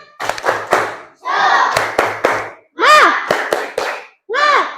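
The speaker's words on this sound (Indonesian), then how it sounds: "coba tepuk semangat" A classroom of students performs a rhythmic spirit clap, sharp bursts of hand claps in a patterned beat alternating with loud group chanting voices, repeated in several phrases.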